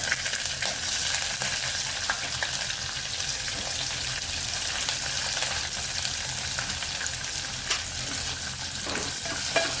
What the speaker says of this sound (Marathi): कांदा पण चांगला परतून घ्यायचा.